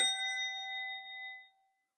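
A single bell struck once rings out clearly and alone, its bright metallic tone with strong overtones sustaining for about a second and a half before fading to silence.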